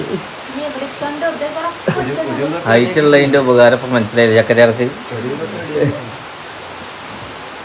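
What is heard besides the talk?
heavy rain falling on a tiled house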